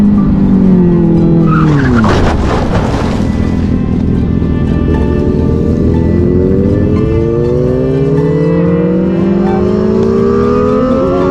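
A motorcycle with a worn front tire skids and loses grip on the road, giving a loud screeching slide amid roaring engine and passing traffic noise, close and continuous with no speech.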